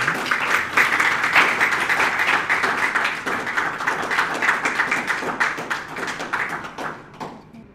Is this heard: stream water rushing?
no